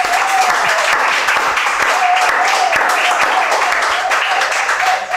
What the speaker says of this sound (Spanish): Los poquitos que estamos, un aplauso,